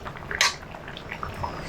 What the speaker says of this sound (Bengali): তরকারিটা একটু নেড়ে দেব মশলা দিয়ে